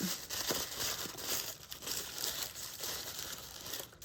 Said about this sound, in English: And we're gonna, again, crumple this up.